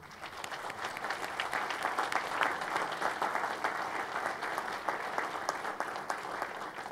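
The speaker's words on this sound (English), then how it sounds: "Please join me in a round of applause for this esteemed group." Steady applause fills a university inauguration and installation ceremony, a sustained round of clapping from a seated audience at moderate loudness, continuous and even throughout without a break.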